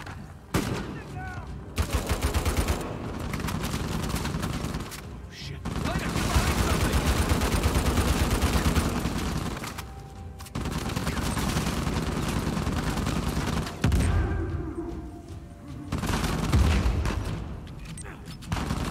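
Shotgun blasts and rapid gunfire in the video game Uncharted 4, loud and nearly continuous with brief pauses, under a player's voice talking.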